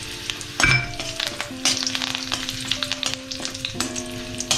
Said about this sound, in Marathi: कढीपत्त्याला सुद्धा फ्राय करतोय.